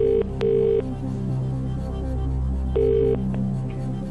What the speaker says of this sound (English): phone Nick, tell him the question, two possible answers